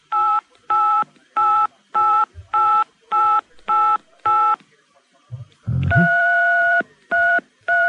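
Telephone keypad tones keyed by a caller on a radio phone-in show, a brisk regular run of about nine short beeps, a brief pause with a low thump, then a longer tone and two more beeps.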